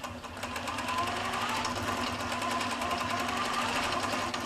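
An I/S Turbo quilting machine stitches at a steady, rapid pace, a close, continuous mechanical hum and patter that starts up and holds evenly throughout.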